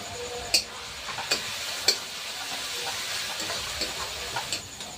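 Bay leaves sizzle in hot oil in a cooking pan, a steady close-up hiss broken by several sharp taps and clicks of stirring spread across the clip, no voices.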